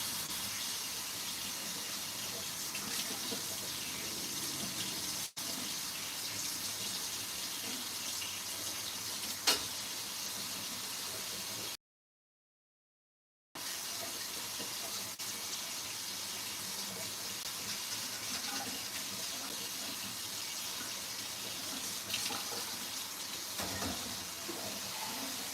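Tap water runs into a kitchen sink for rinsing, a steady, fairly loud gushing hiss that continues almost without change, broken by one short silent gap midway.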